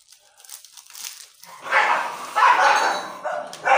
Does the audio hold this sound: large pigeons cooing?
no